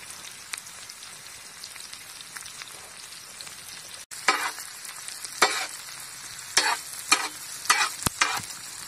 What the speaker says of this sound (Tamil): பொடிய நறுக்கின பீன்ஸ்,